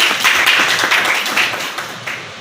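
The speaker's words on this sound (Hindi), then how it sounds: "और एक बार इन बच्चों के लिए तालियां हो जाएं" Audience clapping for students at a school award ceremony, a short burst of dense hand claps that starts strong and gradually tapers off.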